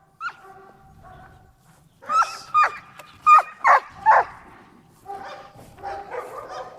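Dogs bark and yelp in a quick series of five loud, close barks in the middle, with softer whines and yips before and after.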